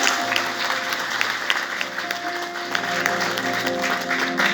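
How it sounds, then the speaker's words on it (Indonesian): An audience at a church Christmas celebration applauds in a dense, sustained wash of clapping, with a steady droning musical tone underneath throughout. "Berikan tepuk tangan untuk nama Tuhan."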